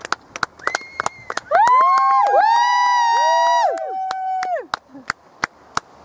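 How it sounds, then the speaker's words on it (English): Distant crowd cheering and high shouts swell in the middle of a Hurricane aircraft flyover event, framed by sharp, scattered clicks and taps close by before and after. "Oh, there goes the applause over there."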